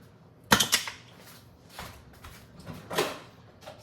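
A kitchen drawer jerks open with clattering rattles of teaspoons and utensils, a sharp burst followed by a few smaller clinks and shuffles, close by with no voices.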